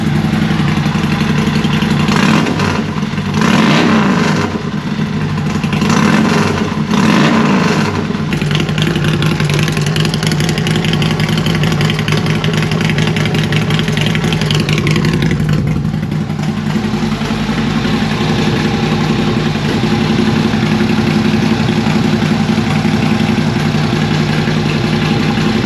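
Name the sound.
Harley Road King motorcycle revving with Ultima Dominator 2-1 exhaust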